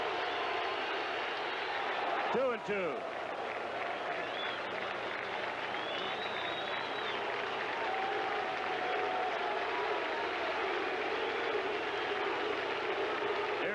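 Yankee fans clapping in the stands during a 1978 American League playoff baseball game, a steady wash of crowd applause that holds throughout, with a brief announcer voice over it.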